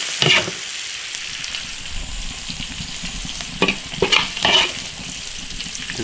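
Pork for twice-cooked pork stir-fried in an iron wok with chili peppers, sugar and soy sauce, giving a steady close sizzle with a few sharp spatula clatters and scrapes.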